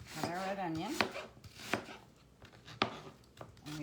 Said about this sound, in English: we're just going to go ahead and cut our red onion. And we just want it in little fine pieces.